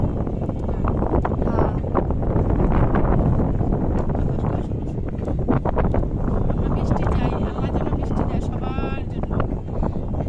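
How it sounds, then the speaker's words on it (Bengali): Wind blowing outdoors, a loud, steady rumbling gust buffeting the microphone throughout, with people talking faintly underneath. "বাতাসটা অনেক সুন্দর।"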